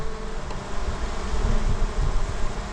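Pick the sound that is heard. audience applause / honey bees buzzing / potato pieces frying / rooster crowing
honey bees buzzing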